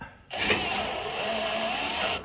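A power drill drives screws back into the original holes of a Firebird body during final assembly, one steady whirring run lasting about two seconds that starts abruptly after a short quiet gap and stops at the end.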